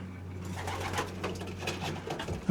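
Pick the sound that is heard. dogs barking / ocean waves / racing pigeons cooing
racing pigeons cooing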